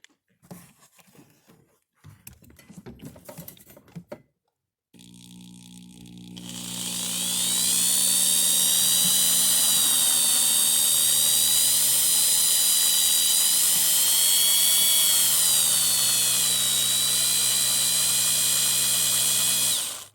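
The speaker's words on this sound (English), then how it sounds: "I'm going to be very cautious about pulling out the shavings as I drill" A power drill bores into the hydraulic pump of a BMW E61 Touring tailgate with a loud, sustained high whine lasting about fourteen seconds, preceded by scattered handling clicks and rustles.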